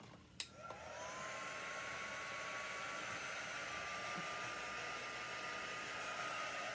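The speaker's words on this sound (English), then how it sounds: "we're just gonna use our dry tool and let this dry a little bit" A heat drying tool clicks on and then blows with a steady, even whir and a faint high whine as it dries chalk paste on a craft surface.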